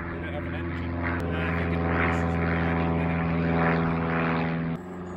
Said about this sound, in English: So now that plane's on the way back. It's released the glider, and the glider is there.